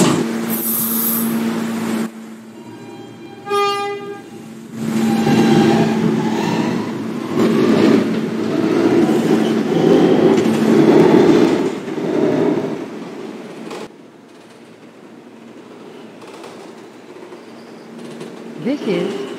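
An F Express subway train bound for Kew Gardens-Union Turnpike rumbles through 21st Street-Queensbridge station, loud and rising then fading, with a brief chime and an automated announcement voice heard over it.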